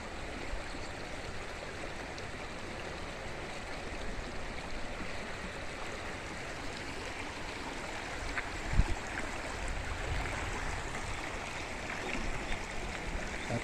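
A river flows in steady, continuous rushing, with broad, even water noise near the point where people wade across in hilly country; no talking.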